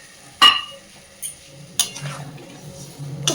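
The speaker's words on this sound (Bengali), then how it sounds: "খুব ভালোভাবে সব কিছু মিশিয়ে" A spoon scrapes and clinks against a cooking pot while raw banana curry is stirred, with a sharp knock at the start, a couple of lighter taps, and a soft sizzle underneath.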